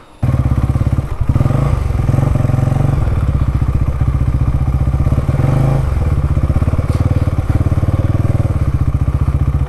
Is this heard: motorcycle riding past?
yes